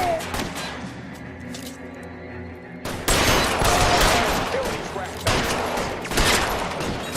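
Rapid gunfire from a shootout in the video game LA Noire, a sparser exchange of shots giving way after about three seconds to dense, loud, sustained volleys that continue to the end.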